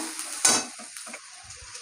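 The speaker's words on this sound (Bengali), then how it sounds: "পেঁয়াজ আর টমেটো ভাজা হয়ে গেছে এবার আমি একে একে মশলাগুলো সব দিয়ে দেবো" Spices go one by one into onion and tomato frying in a pan, with a steady sizzle under a stirring scrape and a louder burst of hiss early on, close by and with no talk.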